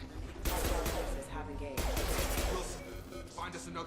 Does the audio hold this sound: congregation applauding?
no